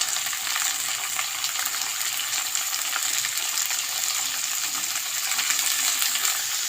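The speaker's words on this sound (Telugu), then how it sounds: "ఇలా ఏగిన దాంట్లో వంకాయ ముక్కలు వేసుకోవాలండి" Brinjal pieces frying in hot oil with ginger garlic paste, giving a continuous dense crackling sizzle, close and loud, with no talk.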